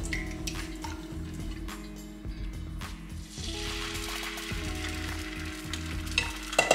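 Beaten egg mixture for dashimaki tamago sizzles and crackles steadily in a hot pan, with clear close frying noise and some faint ticking of utensils, no voices.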